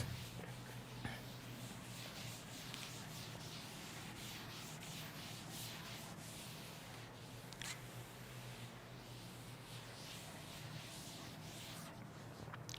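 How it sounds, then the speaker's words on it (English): Steady scratchy rubbing of a duster wiping writing off a board, a continuous soft scrubbing texture with occasional sharper scrapes, faint and close. "Now I am going to rub this part and wait for a moment."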